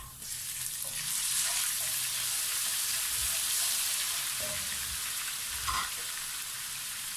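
Loud, continuous sizzling of golden-brown onions and garlic-ginger paste frying in a pan, with soft stirring scrapes and a brief clatter near the end, no talking.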